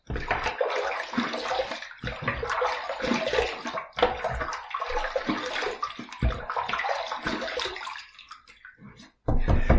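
Running water pours steadily as a 25mm shaving brush with a crushed mud resin handle is rinsed, a loud, close splashing rush broken by short pauses, ending in a sudden burst.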